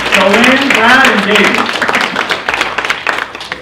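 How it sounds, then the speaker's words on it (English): A conference audience at a fitness studio business panel gives a round of applause for a panelist. A voice speaks at first, then scattered clapping continues on its own and thins out toward the end. "Round of applause for Nina."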